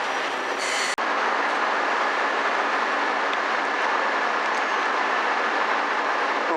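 A series 103 train departs Hyogo station on the Wadamisaki line, a steady loud rolling rumble of wheels on rail with faint squeal, broken by a brief sharp click near the start.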